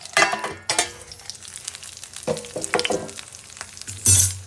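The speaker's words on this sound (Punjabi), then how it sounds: "ਹੁਣ ਆਪਾਂ 5 4 ਮਿੰਟ ਹੋਰ ਫਰਾਈ ਕਰਾਂਗੇ ਮਿਰਚਾਂ ਆਪਣੀਆਂ" Potato-stuffed green chillies fry in a covered pan, giving a steady close sizzle with sharp bursts of crackle and the clatter of a lid or spoon, loudest near the start and again at the end.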